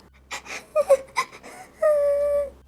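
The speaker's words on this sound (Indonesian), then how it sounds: "Tiba-tiba Mbak Tina tuh cuma denger suara tangisan." Crying sound effect within a ghost story narration, heard as a few short whimpering sobs followed by a long, drawn-out wailing moan, fairly close and clear with no talking.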